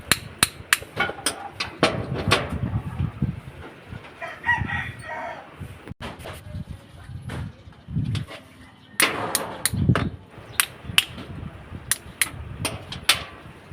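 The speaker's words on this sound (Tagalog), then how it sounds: "Konti pang pukpok." A hammer taps repeatedly on the motor shaft of an overheating Windmill electric fan during repair, giving sharp, close metallic knocks in irregular bursts while a rooster crows nearby.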